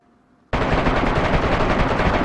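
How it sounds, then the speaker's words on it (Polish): Fake gunshots in the video game DayZ burst in suddenly after a brief quiet start, then continue as loud, dense, rapid automatic gunfire without a break. "Okej, będą lecieć fejkowe strzały."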